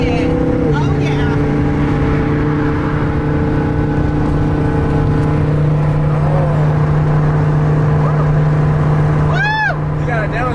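A Lamborghini engine drones steadily and loud up close with a sustained rev, then a sharp blip near the end as it downshifts; voices can be heard under the engine noise.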